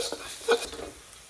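Garlic stir-fried in hot oil for chili crispy beef, a soft sizzle broken by a few scraping stirs and one louder clink of the utensil against the pan.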